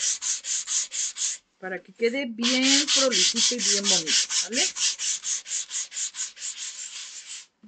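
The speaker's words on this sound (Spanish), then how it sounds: "ya secó y lo vamos a lijar" Sandpaper rubs back and forth over a painted wooden clock circle in a steady rhythm of close, scratchy strokes, briefly interrupted while someone talks over the work.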